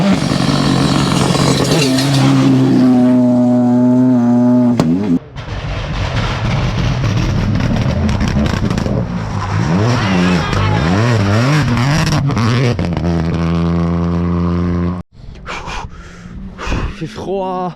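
Rally cars at the Rallye Côte Fleurie roaring past a corner near Villers, loud close engine notes rising and falling with revving and gear changes, two passes in succession with a brief gap between.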